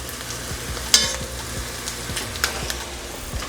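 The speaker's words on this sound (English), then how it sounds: "I'm gonna give this a nice stir" Tomato paste fries with bacon in a pan while a spoon stirs it, giving a steady close sizzle broken by a few sharp scrapes and clicks against the metal.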